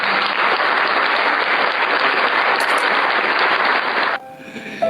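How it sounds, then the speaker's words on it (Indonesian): Loud, dense audience applause for a guest being introduced in a studio talk show, continuing evenly for about four seconds before cutting off sharply into quiet room sound. "Kita kasih tepuk tangan dulu, Dewi."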